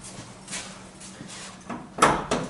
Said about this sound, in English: I open bonnet.